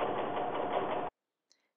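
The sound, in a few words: Brother Innov-is 990D sewing machine stitching inseam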